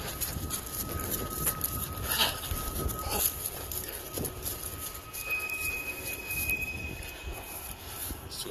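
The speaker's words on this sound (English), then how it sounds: "Well, there's my train." A CSX freight train rolls past nearby outdoors, a steady broad rumble and clatter of cars with a thin wheel squeal that rises partway through, continuous for the whole stretch without talk.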